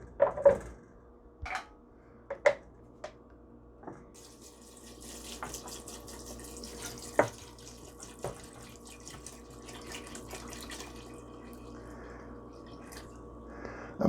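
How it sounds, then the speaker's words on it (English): Water trickles and drips into a pot for dark cherry wine, a faint, sparse flow punctuated by several sharp knocks and clinks of the container. "let's go ahead and add our water."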